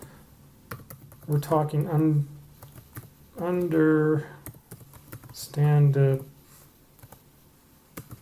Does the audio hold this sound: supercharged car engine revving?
no